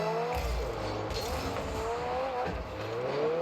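A McLaren car drives in a Rocket League match, with a steady engine drone, shifting pitch and faint tire noise under the game's background sound.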